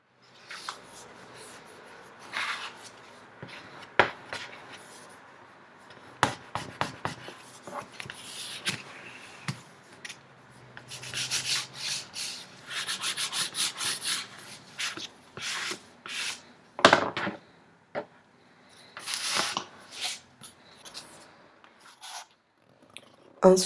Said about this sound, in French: avec l'outil qui sert à presser, j'appuie bien partout pour m'assurer que la colle et le scotch double face